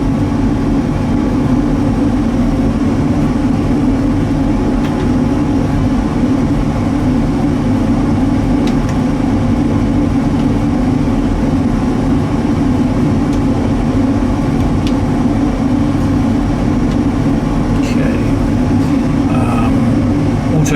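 Airliner jet engines running steadily after engine start, a loud continuous low rumble and roar from inside the cockpit with no talk, holding even throughout.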